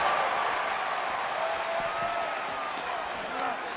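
A wrestling video game match fills with steady arena crowd noise, cheering and scattered applause running continuously at moderate level, with commentary-like voices mixed in.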